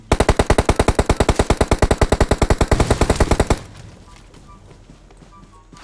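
A rapid, evenly spaced burst of automatic rifle fire in the mobile game PUBG Mobile, loud and close for about three and a half seconds before cutting to quiet ambience.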